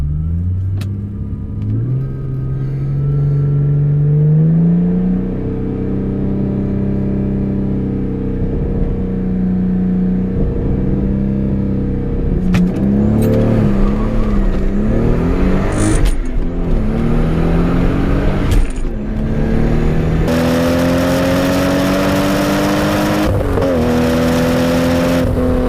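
Toyota Supra launching hard down a clear street, engine climbing steeply through several gear changes with rising whine and a loud, sustained roar from start to finish.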